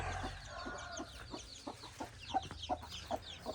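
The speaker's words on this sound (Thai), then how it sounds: "ไก่บานๆเลย" Chickens cluck in a steady run of short, soft calls at a rural home, fairly faint and a little distant, with no talking.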